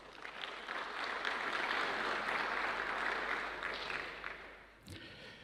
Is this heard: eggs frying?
no